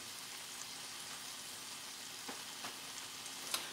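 Half and half heating in a pan for creamy shrimp, giving a faint, steady sizzle and bubbling hiss with a few soft pops near the end.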